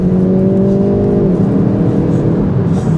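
A Hyundai i30N with a dual-clutch gearbox revs hard under acceleration on a back road, its engine note loud and close, rising and then dropping as a downshift lands, with no talking.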